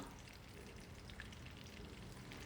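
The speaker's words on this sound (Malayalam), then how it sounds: "ബാക്കിയുള്ളത് നമുക്കിതുപോലെ ഫ്രൈ ചെയ്യാം" Chicken pieces frying in oil, a steady, faint crackling sizzle that holds evenly without pause.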